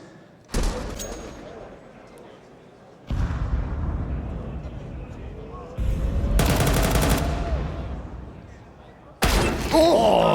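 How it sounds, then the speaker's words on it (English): Bursts of rapid gunfire and single heavy shots in a Counter-Strike 2 match at IEM Dallas 2025 pro tournament play, loud and sudden, with a commentator's voice running underneath. "Oh, big shot from ZywOo"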